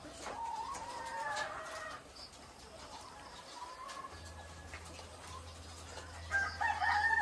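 Layer hens cluck softly and a rooster crows on a farm flock being readied for culling, the calls fairly distant and faint against a low background hum.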